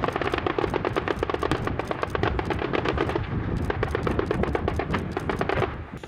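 Rapid bursts of machine gun fire from Peruvian Navy amphibious vehicles crackle loudly and continuously, sharp shots rattling in fast repeated strings during a live-fire military display.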